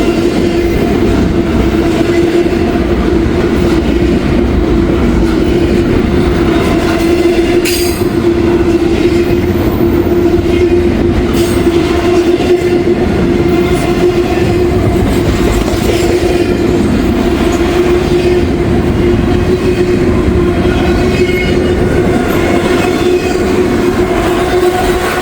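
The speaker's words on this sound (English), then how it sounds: "Pretty big Norfolk Southern Intermodal, if I do say so myself." A long Norfolk Southern intermodal freight train rolls past nearby with a loud, continuous rumble, steady wheel-on-rail clatter and a sustained squealing tone from the wheels.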